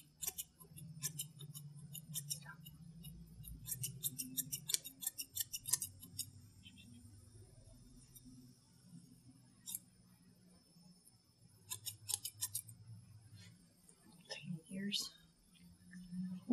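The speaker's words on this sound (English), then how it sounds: "These are great shears for getting bulk off." Grooming shears snipping through a Soft Coated Wheaten Terrier's coat, a close series of quick, crisp cuts in bursts, with a low murmur of voice underneath.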